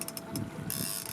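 Salmon fishing reel being wound in aboard a boat, a steady mechanical ratcheting whir lasting about a second, close and fairly loud under wind and engine rumble.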